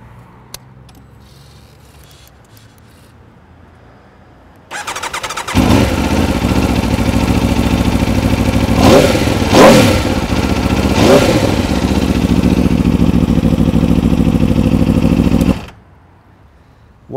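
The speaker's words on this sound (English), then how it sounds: "we're going to switch her on, show you what the dash looks like, and listen to her glorious sound" An Aprilia RSV4 Factory motorcycle starts up after a quiet pause, then its engine roars loud and close, with several sharp revs in the middle before it abruptly cuts off.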